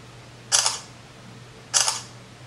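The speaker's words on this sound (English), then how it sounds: "So let's take a selfie to start with." Camera shutter firing twice for a selfie, two crisp close clicks about a second apart over a quiet low hum.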